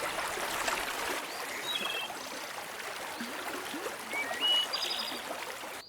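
Water flows steadily across a Siberian floodplain in a soft, constant rushing trickle, with a few faint high bird-like chirps above it.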